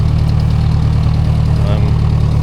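An old Ford 515 tractor engine runs with a sickle bar mower in a hay field, giving a loud, steady low rumble that holds without a break from start to finish.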